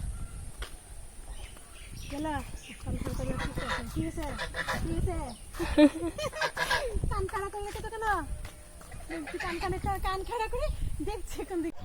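Ducks kept at a rural home honk and quack repeatedly in close, overlapping calls, mixed with people talking nearby.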